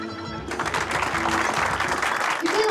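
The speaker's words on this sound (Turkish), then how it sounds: "Güzel alkışlarınız için teşekkür ediyorum" Audience applause after a stage performance breaks out suddenly and continues as an even, moderately loud wash of clapping over a faint musical tone.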